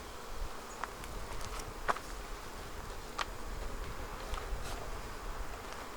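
Honeybees buzz around an open beehive during late-season feeding, a steady low insect drone with a few sharper clicks and knocks from handling the hive, and no talking.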